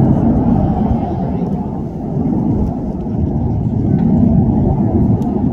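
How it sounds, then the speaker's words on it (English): Red Arrows synchro pair jets performing double rolls at an air festival, a loud, steady roaring rumble of jet engines sweeping past under a commentator's voice. "This is the synchro pair in double rolls."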